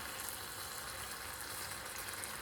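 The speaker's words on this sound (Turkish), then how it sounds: "Şimdi şöyle şerbetime karamelimi ekliyorum." Caramel stirred into hot sugar syrup on the stove for a Turkish etimek dessert, giving a steady, faint hiss of sizzling and bubbling liquid throughout.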